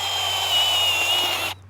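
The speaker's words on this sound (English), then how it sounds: "got my drill in place" A power drill fitted with a planting auger bores into the ground, giving a steady, close, high whine that cuts off abruptly after about a second and a half.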